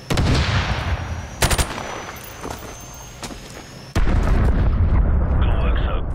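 Loud, dense gunfire from the video game Call of Duty Modern Warfare Remastered, with bursts and sharp cracks over a noisy battlefield backdrop and a brief voice heard under the shots.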